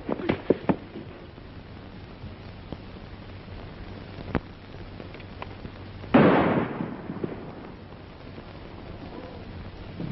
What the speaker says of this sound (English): That shot came from over there.